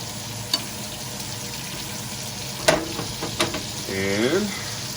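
Steak basting in butter in a pan, a soft continuous sizzle with a few sharp spoon clinks and scrapes, and a brief tonal squeak near the end.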